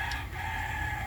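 A rooster crows close by, one sustained, loud call filling the short moment with no talking over it.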